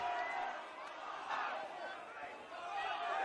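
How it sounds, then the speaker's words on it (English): Spectators at a GPS schoolboy rugby match between St Joseph's Gregory Terrace and The Southport School jeer and bay in a sustained, surging roar, with voices rising and falling across the ground. "The crowd is baying for blood."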